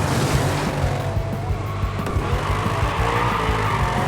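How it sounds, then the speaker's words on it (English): Cars in the video game Wreckfest 2 skid with tires squealing over loud, continuous engine roar, with the occasional crunch of a crash, close and dense throughout. "These cars sound amazing, from the crashing to the screeching."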